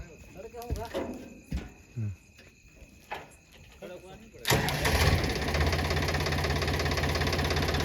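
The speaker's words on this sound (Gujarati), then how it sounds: "અત્યારે ટ્રેક્ટર આવી ગયું છે" A tractor engine starts up and settles into a loud, steady, rumbling run at close range after a stretch of people talking over crickets chirping at night.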